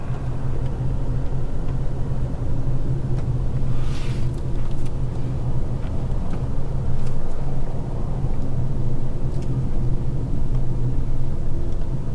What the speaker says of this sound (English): I'm behind a big truck here